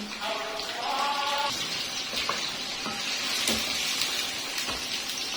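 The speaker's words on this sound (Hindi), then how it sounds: "तेज आंच पे इसको हम फ्राई कर लेंगे" Chicken pieces frying in oil over high heat in a karahi, a steady close sizzle with occasional clinks and stirring noises throughout.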